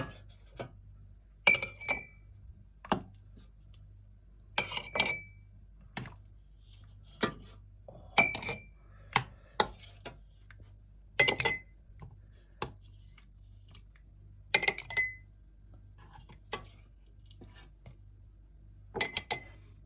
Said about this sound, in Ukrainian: Щоб не порозривало баночки, ложимо м'ясо в баночку, розкладаємо по всіх.